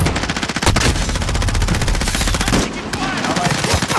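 Sustained rapid automatic gunfire in Call of Duty: Modern Warfare, loud and close, with rhythmic bursts continuing through the whole stretch and a short dip near the middle.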